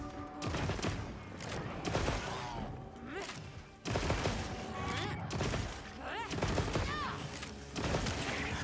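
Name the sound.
shooting in the video game Monster Hunter Wilds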